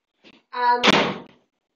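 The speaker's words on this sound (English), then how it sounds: "wait for that door to shut" A door swinging closed in a newsroom studio, with a creaking slide followed by a solid latch thump and short rattling settle, close and fairly loud, no talking.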